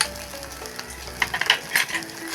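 Taro (mankochu), seasoned with salt and turmeric, fries in a pan. It sizzles steadily, and brief clinks and scrapes of stirring rise near the end.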